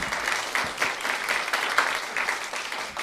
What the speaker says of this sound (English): So give me some applause,